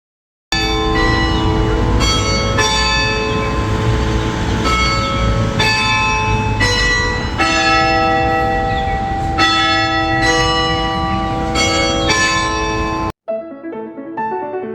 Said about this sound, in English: We headed back towards Town Hall where we'd stopped to enjoy the sounds of the bells.